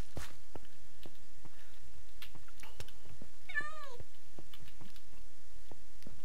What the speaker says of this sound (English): Is there a cat underwater or something?